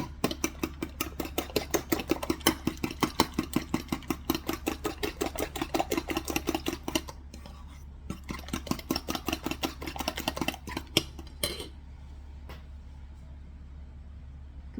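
A fork whisks vinaigrette in a bowl with rapid, steady rhythmic clicks against the sides, running for about eleven seconds before stopping and leaving quiet room tone.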